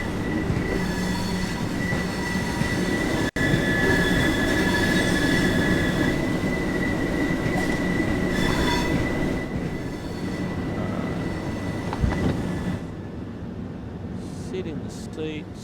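A boat train from London rolls into Lewes station in the Train Sim World simulator, with a loud steady rumble of wheels on rails, squealing flanges and clickety-clack, followed by a sudden drop to quieter cab sounds near the end.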